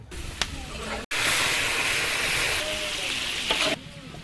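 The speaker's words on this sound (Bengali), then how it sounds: "এখন রোস্টের জন্য চিকেন ভাজা হচ্ছে" Chicken frying in a large pot for roast at an outdoor wedding cooking setup, a steady broadband sizzle that fills the clip after a brief break, with faint speech beneath.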